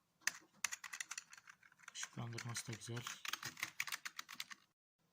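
Rapid clicking keystrokes on a repaired Piranha RGB computer keyboard, a budget gaming model, fill the clip in quick irregular bursts while someone speaks briefly over the middle of the typing.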